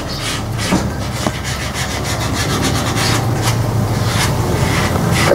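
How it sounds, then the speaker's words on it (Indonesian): Sandpaper rubs across the face of a Lampung-style wood carving in steady, rapid scratching strokes, close and fairly loud, continuing throughout. "Kalau untuk wajah, ya ini tinggal kita menggunakan banyak menggunakan amplas"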